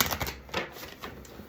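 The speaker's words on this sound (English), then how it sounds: "Just shuffling some decks" Tarot decks being shuffled by hand, a rapid run of crisp riffling card flutters in short bursts, close and fairly quiet, with no talk.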